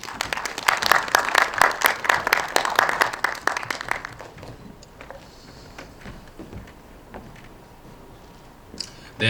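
Audience applause at a Korean virtual human industry association general meeting, dense clapping for about four seconds that thins into scattered claps and room noise.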